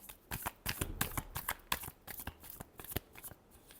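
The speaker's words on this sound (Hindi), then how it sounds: "last shuffle" A deck of tarot cards is shuffled by hand close up, a rapid series of crisp riffling slaps and flicks in an uneven rhythm, alone without talk.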